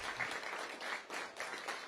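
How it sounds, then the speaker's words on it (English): An indoor audience at an esports invitational in Hawaii applauds for the competing teams, a steady, dense wash of clapping throughout, fairly faint and distant. "how about a round of applause for all of the teams that participated here today?"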